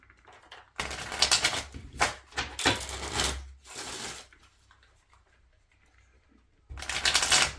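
Cards for the board game Everdell are riffle-shuffled several times in quick bursts, each a crisp, near fluttering rattle separated by short pauses and the soft tap of squaring the deck.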